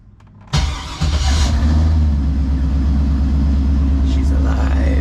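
A BMW E30 with a swapped LS V8 cranks briefly, then catches and settles into a loud, steady, deep idle, close by and alone.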